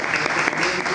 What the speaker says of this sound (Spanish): un fuerte aplauso al doctor Humberto Longosuti